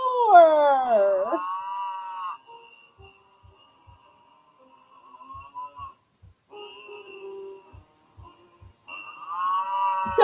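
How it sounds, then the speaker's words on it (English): Novelty birthday greeting card with a cute cow design playing a mooed happy-birthday melody, wavering moo-like tones in short bursts with a quiet gap and faint ticks before the tune resumes, close and moderately loud, no talking. "So if you've never been mooed happy birthday before, here you go."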